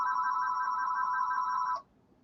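A telephone rings with a steady electronic tone, a continuous loud ring that cuts off abruptly after nearly two seconds, leaving faint background hiss.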